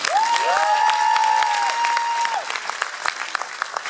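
Loud, close clapping from a crowd at a stage event in Poprad, with sustained whistles over it for the first two seconds, after which the applause turns patchier with a few sharp individual claps.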